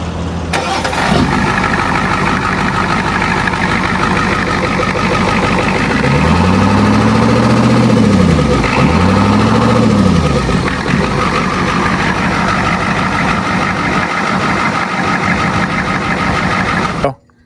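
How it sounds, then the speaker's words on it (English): A 7.3 diesel swapped into a truck in place of a 460 gas engine cranks, catches with revving surges, then settles into a loud, steady idle that runs on until a sudden cutoff near the end. "Ed, go ahead and crank her up."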